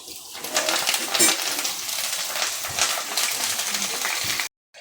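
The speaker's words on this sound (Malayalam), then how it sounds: "വറുത്ത് കോരി വെക്കട്ടത്." Curry leaves frying in hot oil for a chicken dish, a loud, dense crackling sizzle with brief pops that cuts off abruptly near the end.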